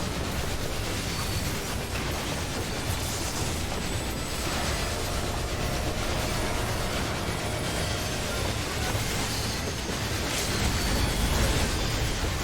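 Dense, continuous roaring and rumbling of the train boss in the Final Fantasy XIV Omega Sigmascape fight, loud and steady amid explosive battle effects, with no talk.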